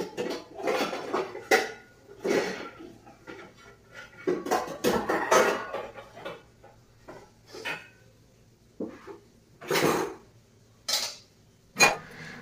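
Dishes being washed by hand: metal pots and utensils clink and scrape in irregular bursts with short pauses between, close by.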